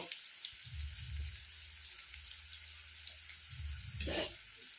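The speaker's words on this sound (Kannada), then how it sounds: "ಇವಾಗ ಇದು ಅರ್ಧದಷ್ಟು ಈರುಳ್ಳಿ ಫ್ರೈ ಆಗ್ತಾ ಬಂತು" Onions frying in a pan, half cooked, give a steady soft sizzle with a faint crackle throughout, low and fairly quiet, with a few light stirring scrapes and no talking.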